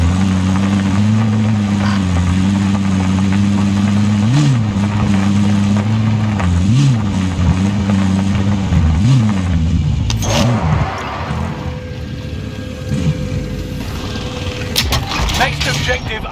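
A vehicle engine in Call of Duty Warzone drones steadily with pitch rising and falling as it drives, loud and continuous, then drops away near the end amid game effects, with voices talking over it.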